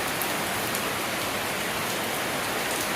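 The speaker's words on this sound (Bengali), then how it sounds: "ও কি বৃষ্টি হচ্ছে" Rain falls steadily on an unfinished house roof that is still waiting for its tile covering. It makes a dense, even hiss of drops that stays loud and unbroken throughout.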